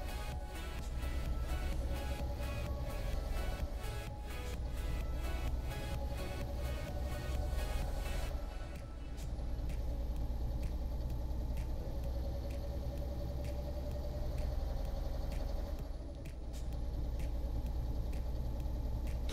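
A Mercedes 1632 NG truck rolls along in Euro Truck Simulator 2, a steady low engine rumble and road drone throughout, with a run of rapid ticking clicks early on, and no one talking.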